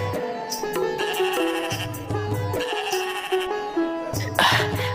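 Two sheep bleat in a cartoon palace scene, with repeated loud bleats layered over a continuous musical score and no speech.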